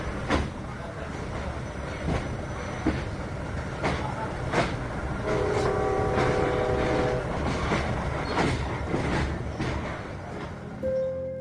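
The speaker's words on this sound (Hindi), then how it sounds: "ट्रेन चल पड़ी।" A passenger train pulls away in a narrated love story, a steady rumbling run of rail noise with rhythmic clickety-clack beats, a brief horn-like tone in the middle and a short tone at the end.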